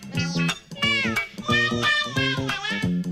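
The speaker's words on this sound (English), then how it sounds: "Have you ever seen a kitten that actually likes water?" A kitten gives a series of loud, close, drawn-out meows in quick succession, some rising and wavering in pitch, with short gaps between them.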